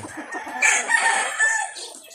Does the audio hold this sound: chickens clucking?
yes